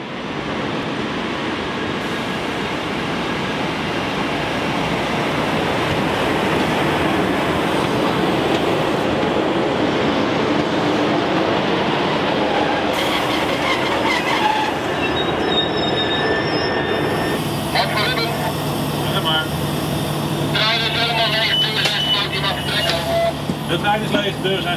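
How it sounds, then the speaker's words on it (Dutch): An empty passenger train rumbles and screeches steadily as it departs after its doors close, wheels squealing and clattering, loud and close throughout with metallic tones rising near the end. "De trein is leeg, de deuren zijn gesloten, ga ik vertrekken."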